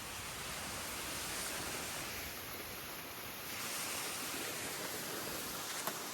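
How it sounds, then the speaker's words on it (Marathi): Fast-flowing floodwater pouring through a banana plantation produces a constant broadband rushing hiss, steady and fairly faint, with no voices. "एवढ्या न पाणी वाहतंय एवढ्या स्पीडनं"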